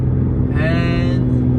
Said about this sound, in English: I truly love driving this car.